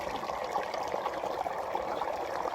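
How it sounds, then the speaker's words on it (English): Spring water flows straight out of the ground in the woods, making a steady, continuous trickling and burbling close by with no break and no other sound. "Water's coming right out of the ground."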